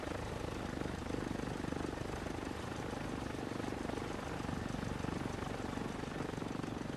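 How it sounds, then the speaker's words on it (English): A Cessna C-172's propeller engine drones steadily in the FSX flight simulator, idling on the ground with the parking brake set, as a constant, unbroken hum at moderate volume with no talk. "you can hear the engines here"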